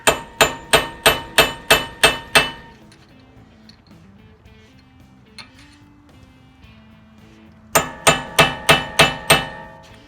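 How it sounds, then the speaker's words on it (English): Center punch struck with a hammer to stake a wheel bearing nut on a 2006–2009 eighth-generation Honda Civic: a quick run of seven sharp metallic blows, a quiet pause, then six more strikes, close and ringing. "I usually just use a center punch and punch it down, just like that"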